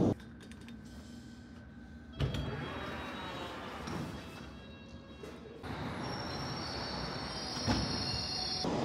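A London Underground District line train rumbles and roars through a tunnel, with metallic wheel squeals and shifting noise that swells louder partway through.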